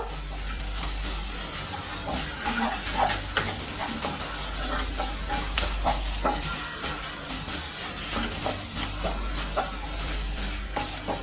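Grated coconut and masala sauté in a pan for a Kerala-style black chickpea curry, with steady sizzling and repeated stirring scrapes running throughout at close range.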